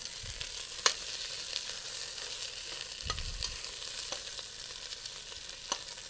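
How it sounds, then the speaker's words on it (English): Meat browns in a pan as the base for a homemade pasta sauce, giving a steady, close sizzle with a few sharp clicks and scrapes as it is stirred, and no voices. "you want to go ahead and brown that in your pan"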